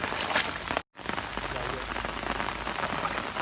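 Rain pours down outdoors while eel trap tubes are collected from rising floodwater, a close, steady patter and hiss of drops on surfaces, broken once by a brief cut to silence.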